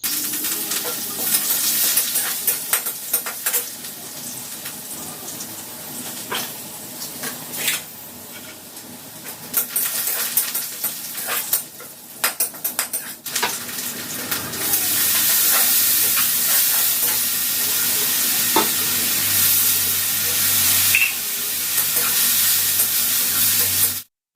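Fenugreek, onion, green chili, curry leaves and potatoes fry loudly in a pan. A constant sizzle and hiss runs throughout, broken by scraping stir strokes and metallic clinks, with no one speaking.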